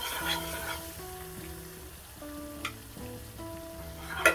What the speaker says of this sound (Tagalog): Continue to stir.